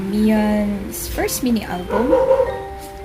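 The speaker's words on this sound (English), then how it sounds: "Yeah, that's my dog." A cranky dog barks and growls loudly and close by indoors at the start, then a person talks over the quieter room.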